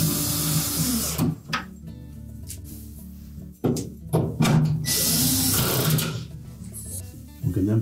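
A powered screwdriver drives screws to secure a new track in a Whirlpool refrigerator, with several short whirring bursts of varying length close by, separated by brief pauses and handling clicks.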